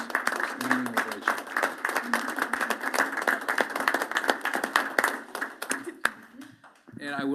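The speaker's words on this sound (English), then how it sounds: "Standing ovation." A school board meeting audience rises in a standing ovation for the undefeated girls' basketball players, with sustained, dense clapping from many hands that fades near the end, while voices talk over it.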